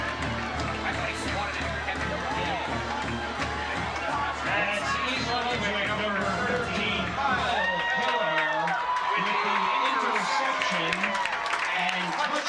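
Crowd at an East Brunswick high school football game, a steady mass of cheering and applause with a loud swell near the end, voices shouting throughout.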